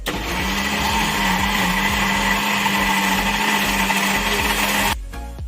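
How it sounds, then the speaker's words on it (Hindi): An electric mixer beating vanilla sponge cake batter whirs loudly and steadily for about five seconds with a constant motor hum, then cuts off abruptly, leaving quiet. "हम अपना मिक्सर रेडी करेंगे।"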